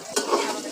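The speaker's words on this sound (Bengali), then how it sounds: "প্রথমে আলুটা ভেজে নিব।" Potatoes fry in a pan with a steady sizzle, broken by a brief sharp stirring scrape near the start.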